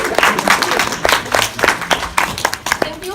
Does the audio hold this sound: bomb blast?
no